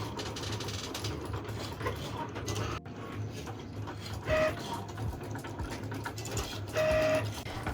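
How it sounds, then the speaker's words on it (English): Three sticker cutting machines running together in a studio, a steady mechanical whir and hum with occasional short high beeps or whines over the continuous drone. "I'm busy cutting them at the moment. All 3 of my machines are working at the same time."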